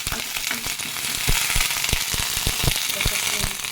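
Jujube (kul) fruit being stirred in a frying pan for chutney, a steady bright sizzle with repeated sharp scrapes and knocks of the spoon at an uneven rhythm, close and fairly loud.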